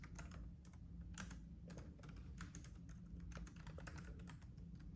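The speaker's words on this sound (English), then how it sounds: "I want to test out just the typing experience." A Yekbee keyboard case for a 10.2-inch iPad is typed on in a steady stream of quick, close plastic key clicks, with no voices.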